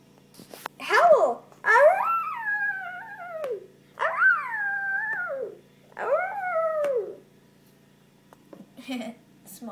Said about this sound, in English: Small dogs have funny howls.